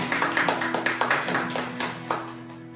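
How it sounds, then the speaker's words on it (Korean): A church congregation clapping in praise, a few sharp rhythmic claps standing out over a sustained low musical hum before tapering off. "우리 자유케 하신 주님 앞에 박수로 영광 돌리겠습니다."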